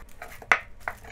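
A kitchen knife slices rice cake that has not fully hardened, for tteokguk, giving a few short, crisp cuts against a board, close and fairly quiet.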